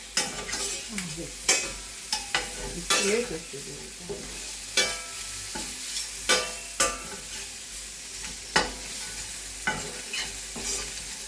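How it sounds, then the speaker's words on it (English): King oyster mushrooms stirred in a hot pan for an alkaline sauce, with a soft bed of frying and intermittent sharp scrapes and clacks of the spoon at an uneven pace, close by without talk. "And then we'll put in back the king mushroom. The king oyster mushrooms."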